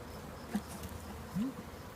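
Honey bees hum faintly around an open hive at an apiary while frames are being lifted out, with two brief buzzing passes rising out of a quiet outdoor background.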